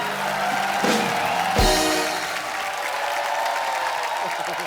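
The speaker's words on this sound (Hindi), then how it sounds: "अजय पाजी के लिए जोरदार तालियां।" Studio audience at a televised Hindi comedy show breaks into applause with some cheering, a loud burst swelling briefly then continuing steadily in the background.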